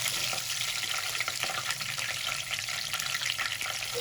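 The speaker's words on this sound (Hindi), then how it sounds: "इतना फ्राई करेंगे लाइट गोल्डन कलर आ जाए।" Ginger garlic paste fries in hot oil in a pan with whole red chilies, a dense, continuous close-up sizzle that stays even and loud throughout.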